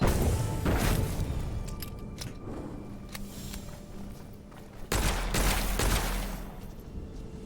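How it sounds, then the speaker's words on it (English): Enemy gunfire in the first-person shooter Witchfire comes as loud bursts and sharp cracks with booming impacts, clustered at the start and again in a heavy volley midway, close and dense. "They're shooting at me, which is bad."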